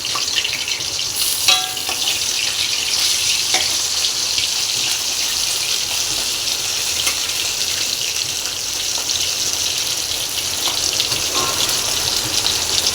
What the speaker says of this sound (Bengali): মাছগুলো আগে ভালো করে ভেজে নিই